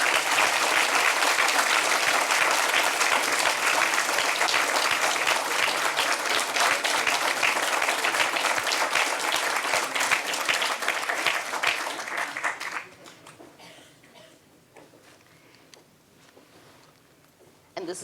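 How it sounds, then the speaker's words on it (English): Loud, dense audience applause fills a moot court competition awards ceremony for about thirteen seconds, then drops off abruptly to faint room noise with scattered claps. "Can we give them another round of applause?"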